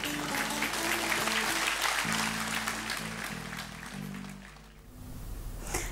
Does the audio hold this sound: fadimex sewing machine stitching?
no